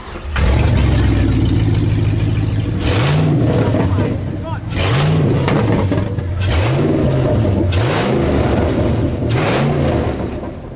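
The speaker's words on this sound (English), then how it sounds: "the car also sounds absolutely insane" A Batmobile engine fires up and then revs hard about four times in steady repeated surges, loud and close throughout.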